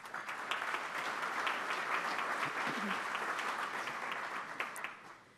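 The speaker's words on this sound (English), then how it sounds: "Let's give them a round of applause." A room of club members at a meeting applauds its volunteers, with a steady, dense round of clapping that holds level for several seconds, then starts to taper at the very end.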